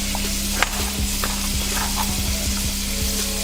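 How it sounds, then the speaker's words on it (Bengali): Prawns fry in hot oil in a wok with a steady close sizzle, broken by a few scraping clinks of a spatula and a low hum running underneath; no one speaks. "চিংড়ি মাছগুলো ভাজা হয়ে গিয়েছে, চিংড়ি মাছ ভাজাগুলো তুলে নিচ্ছি"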